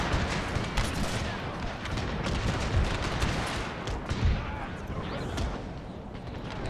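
Sustained, dense gunfire and cannon volleys from a Thirty Years' War battle in the Total War strategy game, a continuous loud crackling roar with scattered heavier booms.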